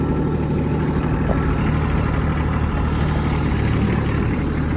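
A Kubota B2601 compact tractor engine runs steadily in low gear, a continuous loud low drone with an even idling texture throughout, no voices present.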